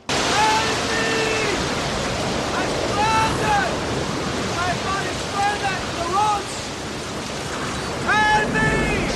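A roaring rainstorm in the film Anaconda hisses steadily with heavy wind, while voices call out loudly at intervals over the downpour.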